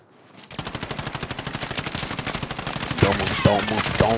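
Sustained automatic gunfire in a battle royale video game, a loud rapid rhythmic burst of shots, with voices talking over the later part.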